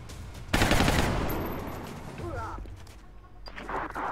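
Rapid-fire gunshots in X-Com Long War, a loud burst of shots followed by a fading rumble and a softer late volley, with a voice speaking over part of it.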